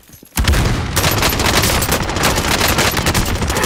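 Heavy video-game gunfire from a shotgun and an AR, a sudden loud burst that becomes a dense, continuous barrage of overlapping shots, with no talk.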